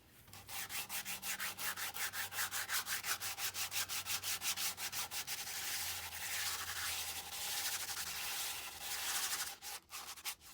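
Rhythmic sanding of the bowl of a large carved wooden spoon with coarse sandpaper, steady back-and-forth rasping strokes that blur into continuous scraping before a few final strokes, close and clear with no talking.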